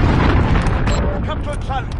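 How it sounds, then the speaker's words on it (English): In Call of Duty: Modern Warfare, a cruise missile strike sends out a deep, rolling explosion rumble that fills the whole moment, with voices talking over it. "Allied cruise missile on the wing"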